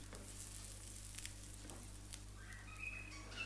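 An egg paratha fries on a pan with a low oil coating, a steady soft sizzle and crackle running throughout, close and quiet with faint occasional spatter and no voices.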